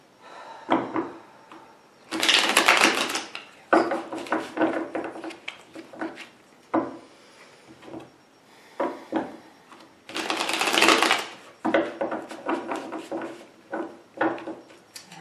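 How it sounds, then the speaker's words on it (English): Tarot cards riffle and slap together in repeated bursts, close and crisp, with short pauses between each shuffle and no talking. "3 more shuffles, Leo."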